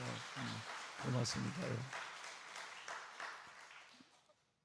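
Applause from a church congregation at an early-morning prayer service, swelling briefly and then fading out, with someone speaking briefly in Korean over the clapping.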